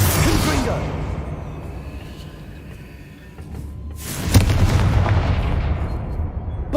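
Confringo blast spell from the game Hogwarts Legacy, with a loud, wide burst and rumble at the start that fades, then a second forceful crackling burst midway that carries a rumbling tail to the end.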